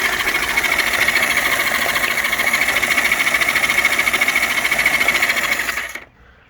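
A rusty, once-seized motorcycle engine with strong compression turns over with a fast, steady mechanical whir, loud and close, running alone for about six seconds before cutting off abruptly.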